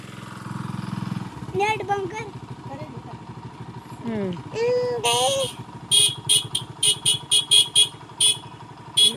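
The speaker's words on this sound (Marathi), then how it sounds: "मामा तुम्हाला वाजवते हॉर्न" A vehicle horn honks in a quick run of short, repeated beeps near the end, with people talking and a low engine rumble underneath.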